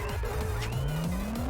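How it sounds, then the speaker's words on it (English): Car in the racing video game Juiced whipping through a bootleg turn, engine revving with a rising pitch as tires squeal and skid, loud and continuous. "Let's get a quad bootleg turn."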